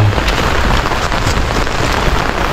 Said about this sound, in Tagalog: Lakas ng ulan simula kagabi pa.